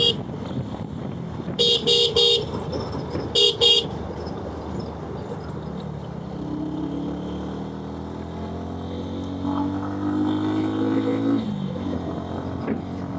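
A motorbike cruises at top speed on the Dhaka–Chittagong highway, a steady engine drone with wind, rising engine pitch near the end and two clusters of sharp horn toots early on.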